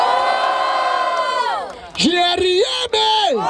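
At a Brazilian freestyle rap battle semifinal in Barueri, São Paulo, a loud crowd roars, cheers and whoops in sustained waves, with bursts of shouting near the end.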